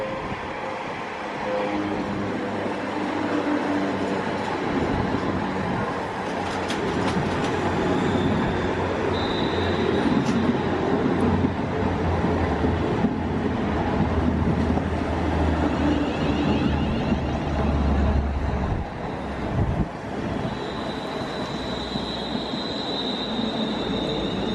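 A long freight train carrying cars rolls past near a station, a loud sustained rumble with wheel clatter and occasional high squeals lasting over twenty seconds.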